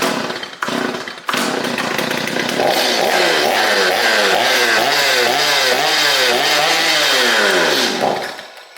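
A Stihl MS210C chainsaw, a free saw being brought back to work, runs loud and close, its two-stroke engine revving up and down in repeated surges before dropping off at the end.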